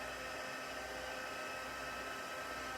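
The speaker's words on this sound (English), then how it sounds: "I'm bringing in my heat tool here, and real quick I'm going to just melt that embossing powder onto my cardstock." A crafting heat tool blows a steady, unbroken roar of hot air while melting embossing powder onto cardstock, close and constant throughout with no voices.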